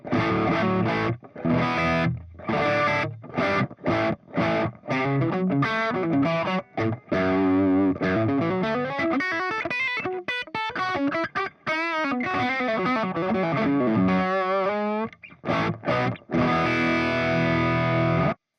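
An Audio Singularity Tangie pedal on an electric guitar through an amplifier plays a continuous run of notes and chords, loud and slightly driven with a clean-ish, compressed tone, with short breaks between phrases.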